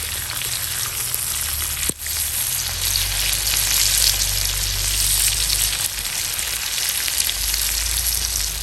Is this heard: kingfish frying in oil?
yes